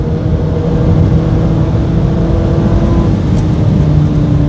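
A Honda Odyssey RA minivan with 4x4 pulls hard under automatic-transmission kickdown, a loud, steady engine drone with a sustained low hum and no gear change audible, heard from inside the cabin without speech.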